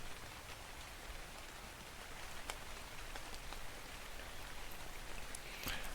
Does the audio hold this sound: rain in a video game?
yes